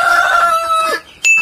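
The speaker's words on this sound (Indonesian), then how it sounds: "saya memberi pakan ayam" Chickens on a poultry farm, some of them sick with snot, give a loud close drawn-out crowing call, then a short sharp squawk after a brief gap.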